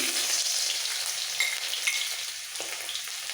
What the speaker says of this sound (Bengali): তেল ভালোভাবে গরম হয়ে গেছে এবার দিয়ে দেবো এর মধ্যে এক চামচ গ্রেট করে রাখা রসুন